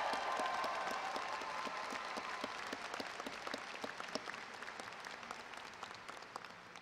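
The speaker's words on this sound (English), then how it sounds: "One more applause for Jerry Holmes." An audience at a university College of Engineering convocation gives another round of applause for a faculty member, a dense hall-wide wash of clapping that slowly thins and fades, with individual claps standing out toward the end.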